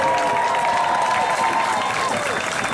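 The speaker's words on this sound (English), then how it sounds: "Let's give this young brother a round of applause," A crowd at a 2020 George Floyd protest rally applauds loudly and continuously, a dense patter of clapping with a faint steady tone running underneath.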